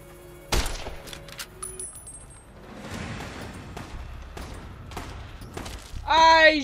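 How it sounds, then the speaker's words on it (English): Gunfire in Fallout: New Vegas: a loud sharp shot opens, followed by scattered thuds and bursts of shooting at varying distance. A bright electronic chirping sound closes the clip, and no one speaks. "He's shooting at me!"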